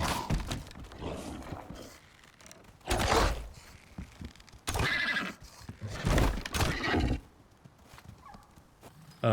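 Horse whinnies and snorts in the survival game Icarus, with several loud bursts separated by quieter stretches and thuds and clatter in between. No one speaks.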